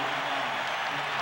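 A packed arena crowd at the Forum roars with cheers and applause as the first quarter ends in Game 4 of the 1989 NBA Finals, Pistons at Lakers, a dense, steady wash of noise throughout.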